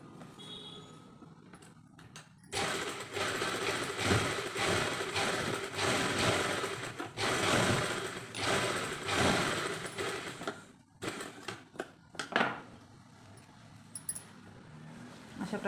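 A sewing machine stitches a potli button onto fabric, a fast rhythmic mechanical whir running steadily for several seconds, then a few short separate bursts, close and moderately loud.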